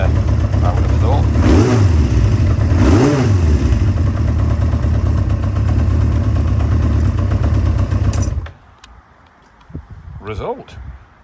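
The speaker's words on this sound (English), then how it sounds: "That's the Yamaha up and running." A 29-year-old Yamaha Interceptor motorcycle engine runs loudly and close by with two sharp revs rising and falling early on, then holds a steady roar before cutting off abruptly, leaving quiet room noise.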